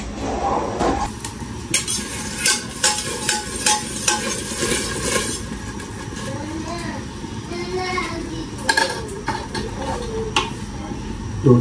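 Food stirred and fried in a pan in a home kitchen, with scraping utensil clatter and soft sizzling running under people talking throughout.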